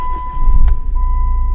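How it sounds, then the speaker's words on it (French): Chrysler PT Cruiser CRD diesel engine turning over, a loud low rumble that swells mid-clip over a steady background hum, then settles into a continuous idle. "est-ce qu'elle démarre la bagnole?"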